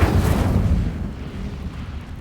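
Incendio fire spell cast in Hogwarts Legacy: a loud, close whooshing burst of flame that roars up at once, then fades into a lingering low rumble over about two seconds.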